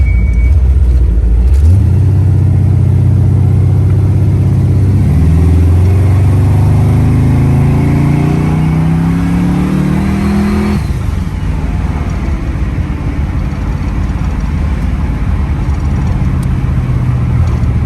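A twin-turbo Cutlass 442 with a built 427ci engine and 4L80E transmission roars as it accelerates hard, engine pitch climbing and dropping at gear shifts, loud and close throughout with a steady road rumble.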